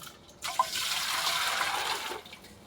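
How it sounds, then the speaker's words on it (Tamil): Water poured into a pot at an outdoor full-moon puja, a continuous splashing gush that starts abruptly, runs steadily for about two seconds, then tapers off, with no talking. "தண்ணி தூக்கி தவளையில் ஊற்று."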